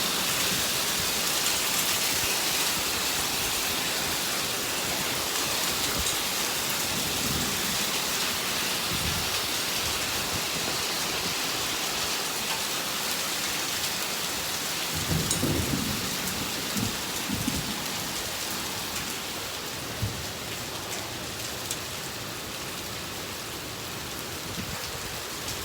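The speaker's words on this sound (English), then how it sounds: "Nothing spells springtime like a little hailstorm." A spring hailstorm with thunder in Oklahoma pelts down loudly and steadily throughout, with deep thunder rumbles rolling in now and then, strongest around the middle.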